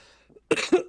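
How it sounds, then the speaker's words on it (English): Several close, sharp coughs from a man in quick succession, the first after a brief quiet breath, each burst loud and harsh. "sorry, got a cough"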